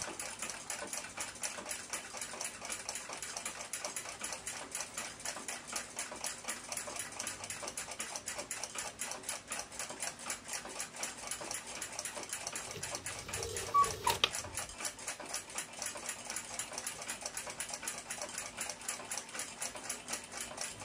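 An 1882 Ansonia clock movement has its pivots polished on a fast, rhythmic machine that whirs and ticks evenly for the whole stretch, with a brief louder knock near the middle.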